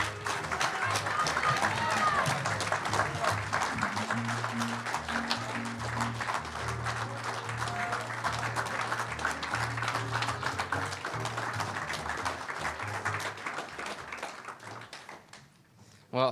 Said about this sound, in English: thank you, everybody, for the claps